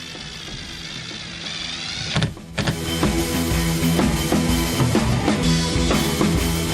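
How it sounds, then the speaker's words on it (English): A power drill drives screws through solar panel mounts into an RV camper roof, its motor whirring steadily and loudly with a brief pause and restart partway through. "then I can start driving the screws in"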